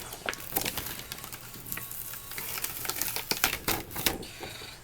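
A vinyl stencil freshly cut on a Silhouette Cameo is peeled away by hand, producing irregular crackling ticks and sticky snaps that come in quick close bursts.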